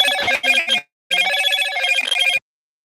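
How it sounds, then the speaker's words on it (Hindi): A phone rings with an incoming call during a live folk-song stream, two loud electronic ring bursts separated by a short gap, with no talking over it. "बार बार फोन आ जा रहा है"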